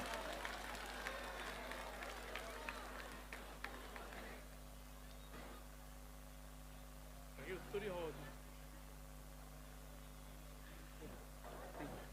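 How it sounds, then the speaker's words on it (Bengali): An audience at a live concert by a singer claps for about four seconds, a fairly loud crackling patter that fades out and leaves a low steady hum with a few faint stray sounds. "সবাই একটু জোরে করতালি দিয়ে প্লিজ অভিনন্দিত করবেন।"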